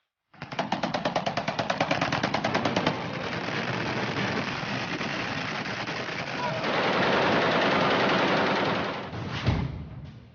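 Celebratory gunfire in rapid, continuous bursts of shots, loud and close, with the rattling volleys running almost unbroken before a final sharp crack near the end.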